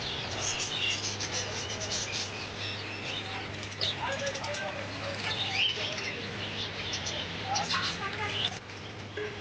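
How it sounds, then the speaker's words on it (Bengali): Java sparrows chirp and flutter nearby in a busy mix of short tweets and wing flaps at a bird shop, while a person talks over them. "আপনারা দেখতে পাচ্ছেন এই পাখিগুলোর নাম হচ্ছে জাবা পাখি"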